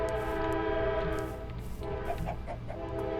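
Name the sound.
train going by in the video game Minecraft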